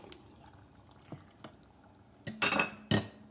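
Beef broth poured into a soup pot for taco soup. A few quiet clinks lead into short, brighter bursts of splashing liquid near the end.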